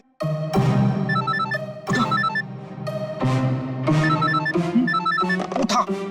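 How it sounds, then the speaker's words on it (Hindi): A telephone rings repeatedly in loud bursts with short gaps, its bright electronic trill filling the clip, with no talking. "फोन उठा जल्दी जल्दी जल्दी।"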